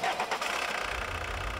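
Volkswagen 1.9-litre turbo diesel engine cranking and catching, then settling into a steady low idle rumble, heard close and alone with no voices.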